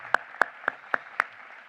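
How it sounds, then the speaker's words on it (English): Five sharp claps spaced evenly apart, quick and crisp, with quiet between each. "Let's give these guys a round of applause."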